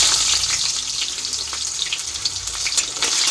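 Chopped onion fries in a pan with bay leaf and chillies, a loud continuous sizzling hiss with faint popping, heard alone.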